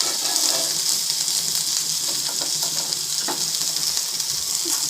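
Curry leaves, fennel, onion, tomato and garlic fry in oil for a brinjal mango fish curry, a dense steady hiss with faint stirring clicks, close and continuous.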